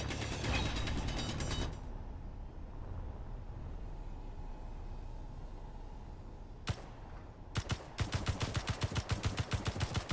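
Gunfire in Space Engineers strikes a rock: a loud burst of rapid shots, then a long stretch of steady rumbling mechanical noise, then several more quick bursts of rapid automatic fire toward the end.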